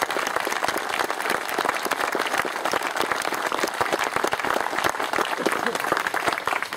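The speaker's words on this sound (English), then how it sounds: "Gentlemen, I'd really appreciate it if you would just stand and let us applaud your efforts here." A crowd at a memorial dedication gives standing applause to the organizers, a loud, continuous rattle of many hands clapping at once.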